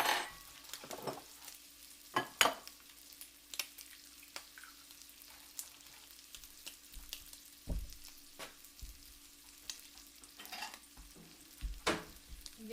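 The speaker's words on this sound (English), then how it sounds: "Get the eggs scrambled" Eggs scrambled in a frying pan that needs re-seasoning, with a low steady sizzle under scattered utensil scrapes and taps against the pan at a close, fairly quiet level.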